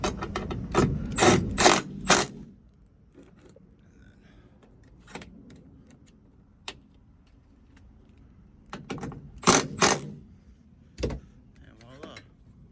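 A stubby ratchet turns a bolt while a pillar kit is installed on a 2005 Ford truck with a 6.0 engine. Bursts of close, rapid clicking come in short runs separated by quiet pauses.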